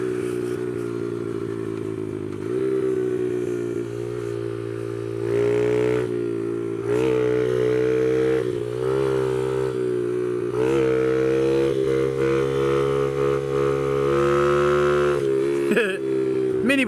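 A small mini bike engine runs steadily as it loops around a dirt track, its pitch rising and falling with shifting throttle through the turns, loud and close throughout.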